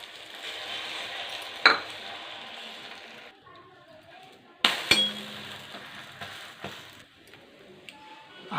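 Eggs beaten for a drumstick leaf omelette clink sharply against a bowl in a few scattered strokes, with quieter stirring and scraping between them.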